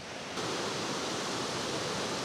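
Broadband rushing roar of the high, fast-running Lackawanna River swollen after a nor'easter, a steady full-spectrum water wash that swells up after a brief quieter start and holds constant throughout.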